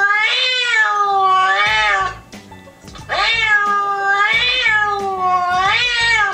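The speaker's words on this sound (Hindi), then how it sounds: "जोनी बिल्ली आ गई है" A cat meows repeatedly, four long, loud, close drawn-out calls in a steady rhythm with a short pause between pairs, no talking over it.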